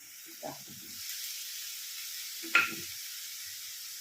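Spinach sautés in a pan with a soft, steady hiss. A couple of brief stirring scrapes rise above it, one sharper clatter near the middle, and the whole stays fairly quiet.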